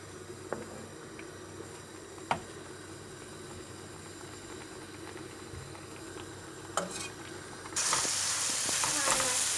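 Meat frying in a pan, a low steady sizzle with a few clinks and stirring knocks, swelling into a loud bright hiss near the end.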